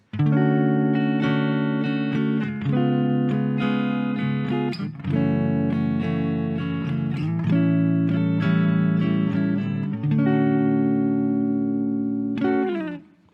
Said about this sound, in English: our chord progression would sound something like this